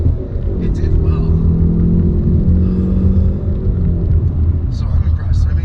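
A 2019 Hyundai Veloster N with the Performance Package and limited slip differential accelerates hard, its engine a loud, steady low rumble with rising tones heard from inside the cabin.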